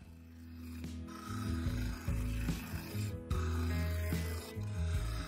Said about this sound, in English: using the skew chisel I reshaped the upper part of the outer surface, curving the rim inwards, effectively narrowing it